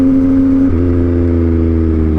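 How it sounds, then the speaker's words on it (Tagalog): A loud vehicle engine revs steadily close by, its exhaust droning throughout with a slight shift in pitch partway through and no talking. "Nabimingi ako sa tambutso natin."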